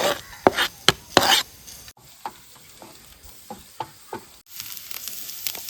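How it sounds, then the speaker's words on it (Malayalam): Garlic and ginger fry in coconut oil in a pan on the stove, with a light crackle under a series of rhythmic spatula scrapes and stirs, several sharp strokes at first and then softer regular ones. "ലേശം വെളിച്ചെണ്ണ ഒഴിച്ചു കൊടുക്കാം വെളുത്തുള്ളി ഇഞ്ചി നിട്ട് കൊടുക്കാം"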